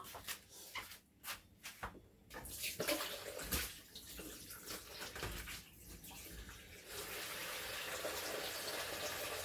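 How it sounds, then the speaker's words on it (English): Water poured into a blender while making pepper soup, a run of splashy gurgling bursts that settles into a steady rushing pour near the end. "I think I should add more water."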